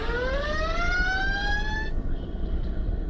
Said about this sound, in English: Those alarms are trying to tell you